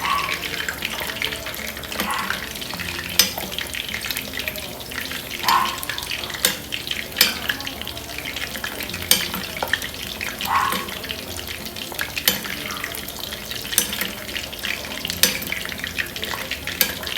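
Chicken pieces fry in shallow oil in a pan, giving a steady close crackling sizzle, with occasional sharp pops and light clatters from handling throughout.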